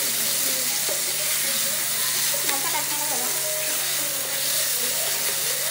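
Ginger garlic paste sizzles in a hot pan, a steady dense frying hiss with faint clinks, continuous and close throughout.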